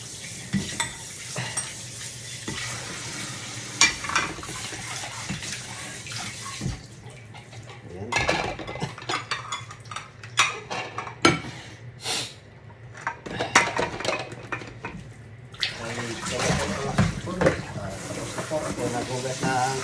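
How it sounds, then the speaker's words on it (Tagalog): Running water splashing with clinks and clatter of dishes being washed at a sink, close by, in uneven bursts. "Nagugas na ang pinggan."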